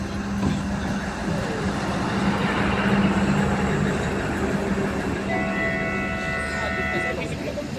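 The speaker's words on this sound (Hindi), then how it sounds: "तो ये यहाँ की लोकल ट्रेन होती है, जैसे और जगहों पे होती है।" A local train running on the line toward Katra, near Mata Vaishno Devi, gives a loud, continuous rumble with a steady low hum. Tonal horn or whistle notes enter near the end, and the train stays close throughout.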